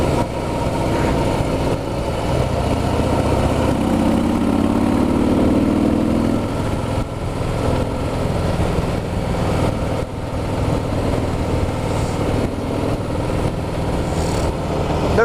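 A 2016 Harley-Davidson Heritage motorcycle cruising in fourth gear gives a steady, loud low engine drone that runs unbroken throughout, with wind rumble and no voices.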